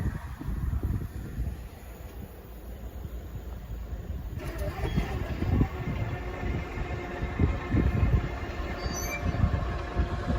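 An HST high speed train on an East Coast Main Line diversion through Lincolnshire rushes past a level crossing, a close, loud rolling roar of wheels and carriages that swells midway with brief metallic squeals near the end.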